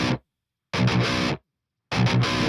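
Dry rhythm guitar track driven through overdrive pedals with no reverb or delay, playing tight, chunky bursts: a short hit, then two longer chugging phrases separated by dead silence.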